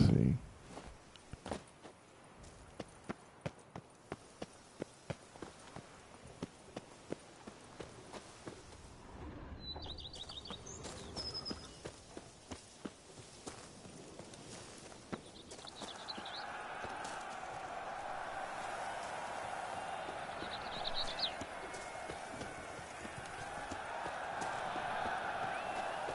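Roach the horse gallops in Witcher 3, a steady, fast rhythm of hoof clip-clops that is close and distinct at first, then fades under a broader ambient wash in the later part.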